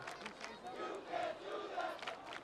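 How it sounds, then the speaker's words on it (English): Crowd cheering and shouting in the stands at a high school varsity football game, a steady roar of many voices that swells briefly, with a few individual yells rising above the noise. "Cheers from the crowd."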